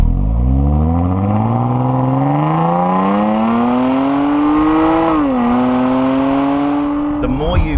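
A Jaguar XE-S supercharged engine and exhaust rev steadily upward, pitch climbing over several seconds, dipping briefly at a gear change, then rising again before a sharp blip at the end, loud and close.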